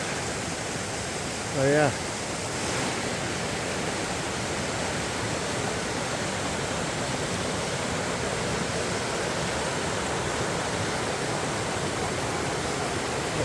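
A river in Talybont, Wales flows in a steady, broad rush that fills the whole clip, with a brief voice heard early on.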